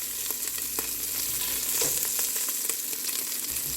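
Loud steady sizzling of a mixture frying in a pan with uncooked beef, with frequent small scraping and tapping sounds of stirring over the hiss.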